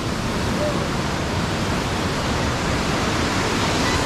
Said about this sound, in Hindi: ये झरना यहाँ से निकल गया, ये रहा झरना